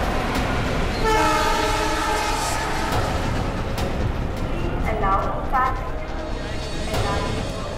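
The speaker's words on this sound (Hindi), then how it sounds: "मुंबई से दिल्ली जाने वाली पश्चिम एक्सप्रेस प्लेटफॉर्म नंबर 3 पर आएगी।" Paschim Express from Mumbai to Delhi pulling into platform 3 at a busy station, loud rumbling train with a long sustained horn, a station announcement and chatter over the noise.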